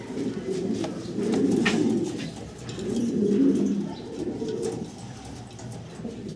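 Young German Beauty Homer pigeons coo close by in a loft, soft throaty rolling coos repeating in overlapping waves, with no voices.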